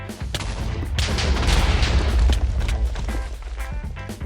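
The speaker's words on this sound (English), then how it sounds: "We survived the explosions thanks to the powerful armor we had." Loud, dense explosions in Minecraft, a rolling run of booming blasts and crackling debris that swells mid-way and then trails off into scattered pops, with no pause in between.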